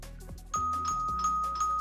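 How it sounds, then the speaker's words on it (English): Doorbell in the Blue Archive video game rings in quick repeated ding-dong tones, clear and close with no talking. "Hikari, don't stop ringing the doorbell."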